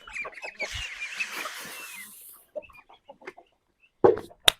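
Poultry calling in a village yard: a burst of honking and clucking from ducks and chickens, then scattered quieter calls and a few sharp knocks.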